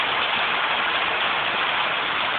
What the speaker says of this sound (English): Now, you hear that rain? Check this rain out.